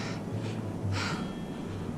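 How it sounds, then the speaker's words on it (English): Heavy, labored breathing from a hiker walking uphill in Peru, a few loud exhales and inhales up close against steady wind and ambient noise. "Because I'm already having trouble breathing."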